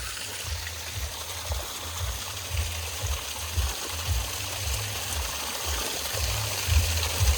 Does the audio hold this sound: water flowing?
yes